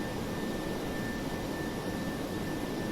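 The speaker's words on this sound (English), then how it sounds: "It sounds like we're gunning the engines" The jet engines of a DC-8-73F in a flight simulator game roar loudly while it taxis slowly, a constant dense rumble and rush with a steady high whine running through it.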